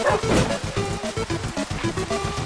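A dog in a video game gives a string of rapid, steady barks over a busy game mix, fairly loud and close.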